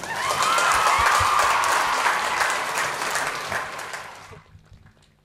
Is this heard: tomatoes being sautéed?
no